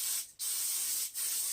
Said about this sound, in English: I'm using some butter cooking spray.